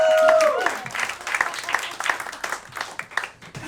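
A small comedy-gig crowd in a bar claps in a quick, uneven patter right after a fading tone, moderately close, with scattered individual claps thinning out toward the end.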